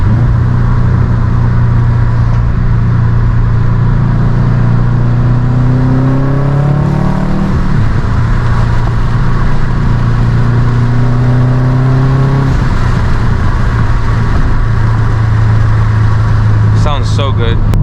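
A 2007 Subaru WRX STI with a full exhaust and dyno tune pulls hard through rising revs, shifts, and accelerates again, its engine loud and close throughout with a brief lull between pulls.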